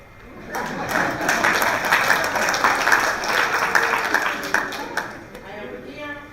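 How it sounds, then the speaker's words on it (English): An audience claps together at a women's peace and security policy event, a dense sustained burst of applause that tapers off toward the end, with some voices mixed in. "You can clap."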